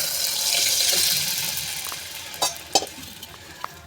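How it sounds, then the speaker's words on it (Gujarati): Water pours into a cooking pot of cluster bean sabzi with ground coriander-chilli chutney over a full gas flame, a steady loud rush that fades, followed by a few sharp clinks and splashes. "આપણે પાણી એડ કરીશું."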